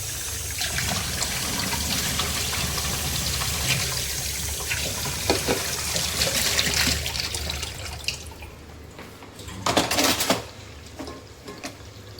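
Raw chicken pieces rinsed under a running kitchen tap for biryani, a steady loud rush of water with splashing and dribbling that thins toward the end, close up and without speech.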